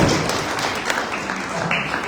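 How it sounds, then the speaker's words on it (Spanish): A church audience applauds a mother of five, giving dense, continuous clapping at moderate loudness with crowd voices blended in. "Un aplauso a la de 5."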